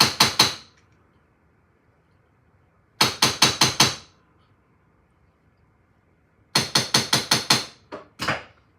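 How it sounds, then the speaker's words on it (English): A jeweler's hammer taps over the edges of a pendant setting to secure a one-carat diamond, striking in quick bursts of three to five sharp metallic blows separated by short pauses. "This is gonna literally set the diamond by just hammering the edges over it."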